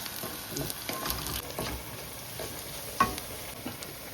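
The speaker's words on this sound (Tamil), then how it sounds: "பாருங்கள் தாளிதம் நல்லா வதங்கிட்டு" Crushed garlic fries in tempering oil for an okra curry, giving a steady close sizzle and crackle with stirring scrapes and occasional sharper pops, and no talking.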